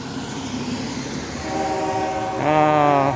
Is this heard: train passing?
yes